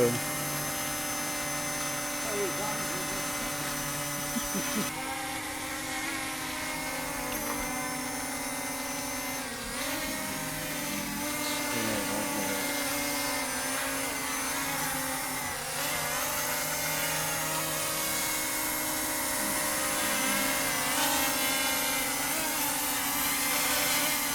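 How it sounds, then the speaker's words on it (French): A small toy drone from Temu flying, a steady high-pitched whirring buzz of its propellers that wavers in pitch as it moves, continuous and fairly close for the whole stretch, with no one talking. "C'est rigolo, ça permet de s'habituer un petit peu au mouvement du drone."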